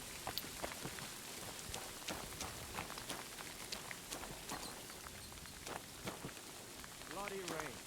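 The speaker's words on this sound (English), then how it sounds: "Bloody rain." Rain falling in the medieval video game Kingdom Come: Deliverance II, a steady soft patter of drops with scattered louder taps and a brief voice near the end, all quiet.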